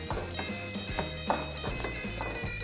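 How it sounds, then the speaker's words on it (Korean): Rice frying in olive oil in a pan, with a continuous sizzle and soft crackle under low stirring scrapes and faint background hum. "올리브 오일, 쌀. 그래서 요걸 볶아주세요."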